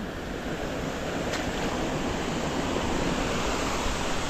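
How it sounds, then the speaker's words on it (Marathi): Stream water runs over a small waterfall in a rural stream, a steady broadband rushing wash, close and continuous, with no voices. "तर इथे पण एक छोटासा वॉटरफॉल होतो असा मस्तपैकी भारी"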